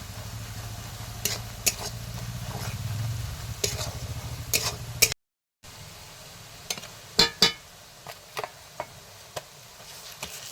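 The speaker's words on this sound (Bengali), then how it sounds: "রসুন বাটা দিয়ে পেঁয়াজের সাথে ভালোভাবে মিশিয়ে নিয়ে কিছুক্ষণ ভাজি" Wet sizzling of garlic paste frying with browned onions in a pan, with scattered clinks and scrapes of a utensil stirring, a brief silent gap midway, no voices.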